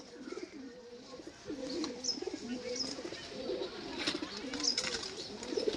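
Golden pigeons coo in a steady run of rolling, throaty calls close by, the phrases repeating back to back with a few faint higher chirps over a light background hiss.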